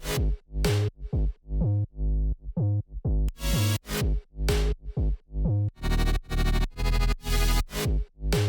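A driving tech house loop of punchy kicks, stabbing chords and percussive hits repeats in a steady groove, with a denser, brighter section near the end.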